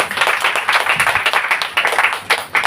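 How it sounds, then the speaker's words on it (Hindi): A church congregation claps for God during a Hindi sermon, loud and close, a dense run of hand claps in rough rhythm that carries on without letup. "कोई है जो परमेश्वर के लिए तालियां बजाएगा?"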